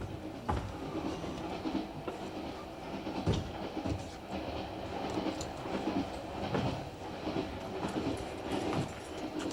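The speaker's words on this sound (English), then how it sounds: "Where does this train stop next?" Inside a moving passenger train, a steady low rumble of wheels on rails runs throughout, with intermittent clicks and clatters from the track joints.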